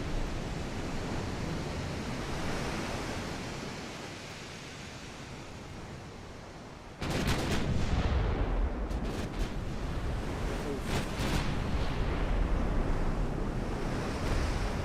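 Battleship secondary guns fire in a naval war video game, a sudden burst of loud booming shots cutting in over steady roaring ocean and wind noise, followed by several sharper blasts in quick succession.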